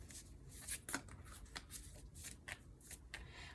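A deck of tarot cards is shuffled close up, with soft riffling and flicking bursts in an irregular rhythm, quiet and alone.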